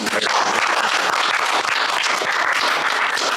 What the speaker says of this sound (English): So let's please give them another round of applause.